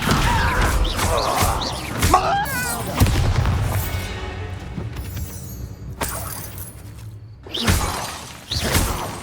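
A Descendo spell from Hogwarts Legacy slams down with booming, shattering impacts and crackling magical effects, loud and layered with game music and a few voice fragments.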